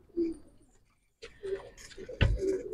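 Soft, low pigeon coos repeat a few times nearby, with a sharp knock and brief rustling partway through.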